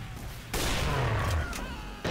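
Team Fortress 2 gunfire: a sustained loud burst of shooting lasting over a second, then a second sharp blast at the end, with faint game noise between.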